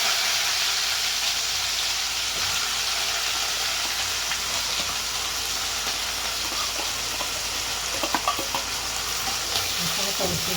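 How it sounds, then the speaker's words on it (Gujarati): An onion and chilli tempering sizzles in hot oil with whole spices for a mixed dal, a steady close frying hiss with a few brief clinks of stirring near the end. "ડુંગળી મરચાંનો વઘાર નાખશું"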